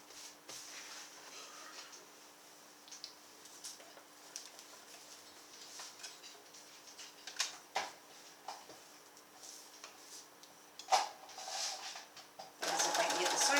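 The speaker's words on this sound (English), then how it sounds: "As if I can get the sewing machine to work." A domestic sewing machine working on a quilt block gives scattered quiet clicks and ticks, then breaks into a loud, close burst of stitching at the very end.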